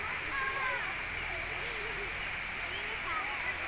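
Water from the Curug Cigentis waterfall rushes in a continuous broadband roar along its stream, steady and fairly distant, under faint bird calls.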